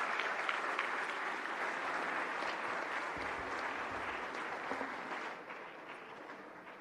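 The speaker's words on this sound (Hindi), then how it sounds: "जोरदार तालियों से स्वागत करें माननीय राष्ट्रपति महोदया का।" An audience at a National Teacher's Day award ceremony applauds loudly to welcome the President, steady dense clapping throughout that thins a little near the end, with no speech over it.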